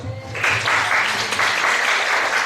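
Congregation at a Friday night prayer service breaks into applause, a dense steady clapping that starts after a brief lead-in and holds loud and even throughout.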